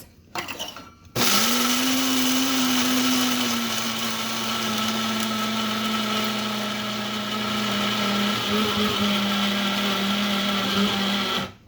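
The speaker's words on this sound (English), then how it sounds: "I just like scoop out some oats, and grind them up like this." A blender grinds oats into flour in a steady, loud whir that holds nearly constant pitch for about ten seconds after a brief start, then cuts off abruptly.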